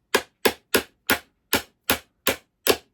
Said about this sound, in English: I need a hammer.